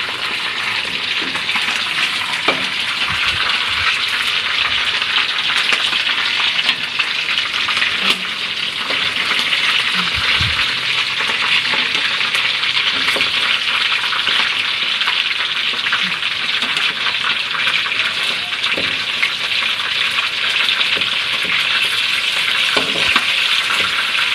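Chicken pieces fry in hot oil in a pan, a steady loud crackling sizzle with occasional stirring clinks and no voices.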